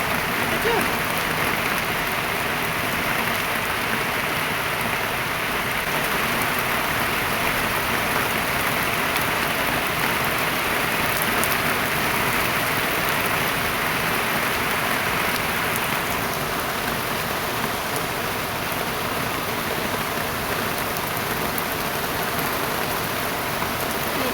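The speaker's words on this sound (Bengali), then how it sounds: "ভালো হলো একটু বৃষ্টিটা হচ্ছে" Steady rain falls outside a home kitchen, a dense, even hiss of drops on surfaces that continues unbroken throughout.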